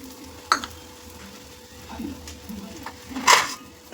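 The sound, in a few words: eggs frying in a pan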